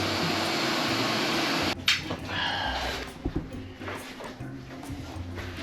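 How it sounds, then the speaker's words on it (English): A vacuum hose runs with a loud, steady whooshing drone during rat trapping, then cuts off abruptly after about two seconds, leaving quieter scattered knocks and rustles. "is connecting to the vacuum hose"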